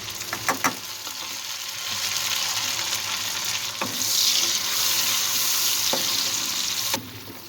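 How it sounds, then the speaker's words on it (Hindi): Tomatoes added to fried onions sizzle steadily in a karahi of hot oil, a continuous loud frying hiss with a few sharp clinks and scrapes of a spoon. "टमाटरों को भी हम तकरीबन 1 मिनट तक तो इसको ज़रूर फ्राई करेंगे"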